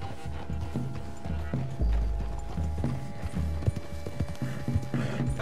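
Horse hooves clip-clop at a steady walking pace in the video game Red Dead Redemption 2, alongside mechanical clicking and low rumbles, a continuous rhythmic clatter.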